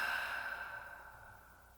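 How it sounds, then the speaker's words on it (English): A single deep breath exhaled slowly out of the mouth during a guided meditation, a soft, close airy sigh that fades gradually over about two seconds. "Exhale out of the mouth."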